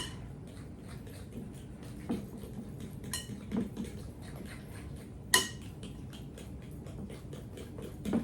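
Molasses being mixed into creamed butter and sugar for gingerbread: a faint, steady run of light spoon-on-bowl clicks and scrapes, with a few louder clinks, quiet and close.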